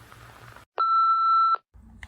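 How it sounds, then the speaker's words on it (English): An answering machine gives a single clear electronic beep lasting under a second, after a short burst of background noise and before a faint voice resumes. "So please leave a message after the beep"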